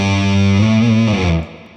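Distorted electric guitar riff with an effects-unit shimmer, a few sustained heavy notes ringing loudly up close before cutting off near the end.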